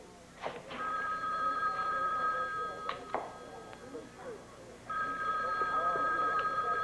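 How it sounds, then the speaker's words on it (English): An old landline telephone rings in a domestic soap-opera scene, two ringing bursts separated by a pause, with soft clunks and room noise between. "Great, nobody's here. I'll answer the phone."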